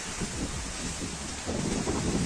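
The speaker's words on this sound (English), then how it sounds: "Ja, tikko plosījās baigā viesuļu vētra kopā ar krusu." A violent windstorm with hail in Latvia roars as a dense, steady wash of wind and pelting precipitation, with a low rumble swelling near the end.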